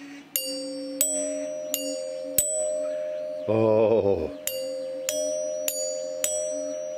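Two metal chimes hang on laser-cut supports on a steampunk arcade machine prototype and are struck in turn, giving about eight clear ringing dings that decay slowly, with a short burst of other noise in the middle.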